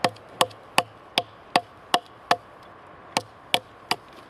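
A knife blade strikes into wood about ten times in a steady rhythm, each chop a sharp, close thud and crack with short pauses between them. No one speaks.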